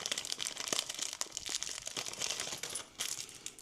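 Plastic bags from a pen-making kit crinkle and rustle continuously up close, a dense crackling texture with sharper crunches scattered throughout.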